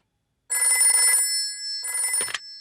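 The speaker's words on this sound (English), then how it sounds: "Let's phone Grandpa." A cartoon telephone rings in two bursts of bright, steady bell tones, the first lasting under a second and the second cut short by a quick sliding blip, with no talking over it.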